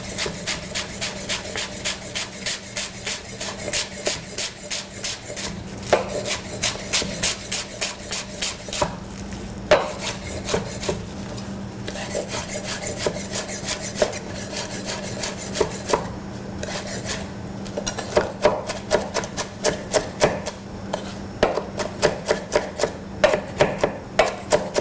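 Knife working through cilantro stems on a cutting board, a steady run of close rasping, scraping strokes with sharp chopping taps throughout, no talking.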